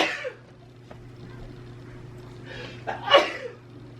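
A person sneezes indoors, one sharp, fairly close burst near the end, after a softer breathy sound at the start, over a low steady hum.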